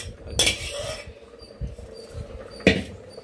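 Boiled chicken pieces being stirred into tomato gravy in a metal pot, with a couple of sharp clinks of a spoon against the pot over soft scraping and low kitchen background noise.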